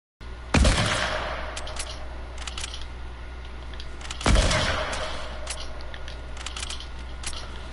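Gunfire in a Fortnite live event, with two sharp loud shots about four seconds apart, each trailing into a long decaying rumble over a steady background hum.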